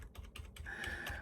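Keys pressed on a computer keyboard while setting up a newly built gaming PC: a quick run of close, crisp clicks and taps, with a faint steady tone running beneath the later presses.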